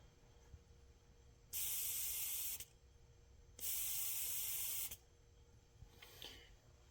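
Two strong bursts of hissing air, each about a second long, blow through a lawn mower carburetor float valve, separated by quiet pauses, with faint handling noise afterward.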